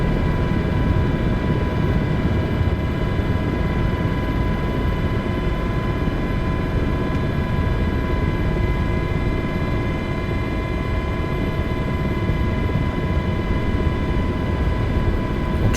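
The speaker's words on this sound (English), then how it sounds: "We're going to bring it back around and come in for a nice smooth landing." An aircraft banks around to come in for landing, its engine and rotor drone steady and loud with a constant tonal hum throughout, with no voices over it.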